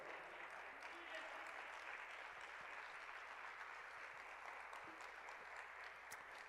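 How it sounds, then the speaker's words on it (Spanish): Applause from a church congregation, a steady wash of clapping heard at a moderate distance and sustained throughout without pause or talk. "Un aplauso al Señor."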